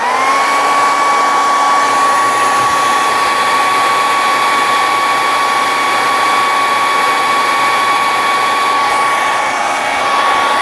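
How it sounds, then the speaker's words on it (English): A hair dryer blows steadily and loudly throughout, used to heat-shrink tubing while soldering a model kit, giving a constant close whirring hiss with a thin high whine and no talk. "I'm just using my hair dryer."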